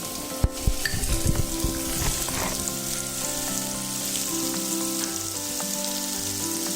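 Onion and cumin frying in hot fresh coconut oil in a pan, a steady close sizzle with sharper crackles and pops early on, settling into an even hiss.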